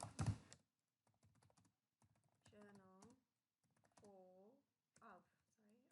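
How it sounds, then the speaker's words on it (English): A computer keyboard being typed on, with scattered soft key clicks in short bursts, mostly quiet and close, under and between a person's speech. "in the search bar, we're going to type in the journal name"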